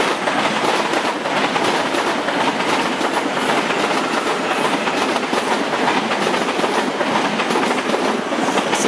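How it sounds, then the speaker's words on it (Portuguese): A CPTM series 9500 passenger train passes at Lapa station in São Paulo, a loud, continuous rumble of wheels and rattling cars with rhythmic clickety-clack running unbroken from start to finish. "Aqui vamos deparar com um trem série 9500."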